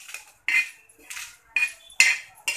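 Whole spices and dried chillies dry roasting in a pan for Khandeshi chicken curry, with about five crisp metallic scrapes and clinks of a spatula stirring them at a steady pace in an otherwise quiet kitchen.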